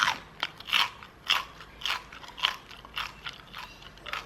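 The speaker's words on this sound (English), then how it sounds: "these gnocchis haven't browned that much, but they are incredibly crunchy." Crunchy pan-fried gnocchi, fried in a little olive oil, bitten and chewed close up: a run of sharp, crisp crunches repeating every half second or so, with no talking.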